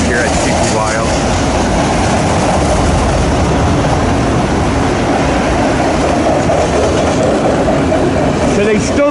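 Eastbound freight train on the Harrisburg line crossing from Main 2 to Main 1 near CP Wyomissing, a loud, steady roar of passing cars and rail noise with a faint mechanical whine, close by throughout.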